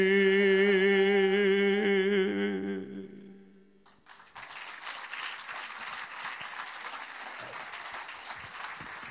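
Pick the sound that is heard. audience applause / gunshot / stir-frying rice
audience applause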